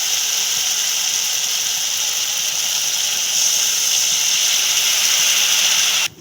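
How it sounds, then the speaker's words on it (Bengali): Tamarind water bubbling at a boil in a pan: a steady, loud hissing simmer that holds evenly for several seconds before cutting off abruptly at the end. "এই যে তেঁতুল জলটা ফুটে গেছে"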